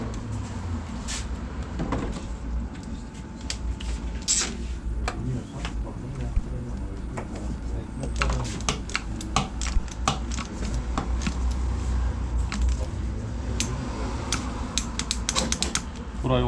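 A torque wrench tightens a bolt on a QJ Motor VPS125 motorcycle during a first service, giving close, rapid ratcheting clicks and metallic taps in irregular runs over a steady workshop hum.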